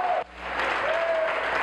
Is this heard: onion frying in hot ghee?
no